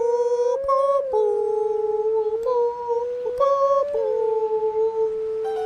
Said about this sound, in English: Time to howl with the wind.